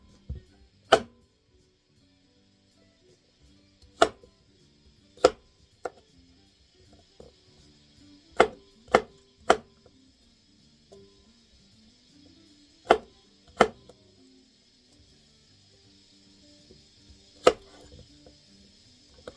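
Cucumbers are chopped into small cubes on a cutting board, with sparse, sharp knife chops scattered irregularly over a quiet background, close and clear.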